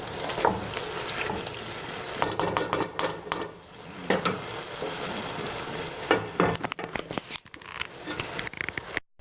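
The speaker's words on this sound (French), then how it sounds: "on va laisser mijoter pendant au moins 5 minutes à feu doux, couvert" A mix of vegetables and leeks sizzles in a pan, with frequent stirring scrapes and clatter over a steady frying hiss, close and fairly loud with no talking.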